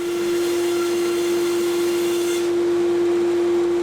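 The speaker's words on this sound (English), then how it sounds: "First thing I need to do though is just bandsaw this excess away here" A bandsaw runs steadily and loudly throughout as it trims excess wood from a Stratocaster guitar neck blank, with a constant motor whine and a broad hiss that eases slightly near the end.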